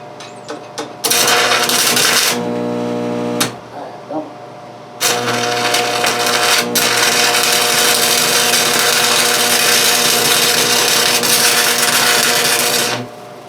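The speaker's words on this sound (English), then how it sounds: "And we're welding, I'm guessing this is 3/8 inch plate steel." Stick welding on 3/8 inch steel plate for a three-point trailer hitch build: loud, close crackling buzz in a short burst, a brief pause, then one long sustained run over an electrical hum.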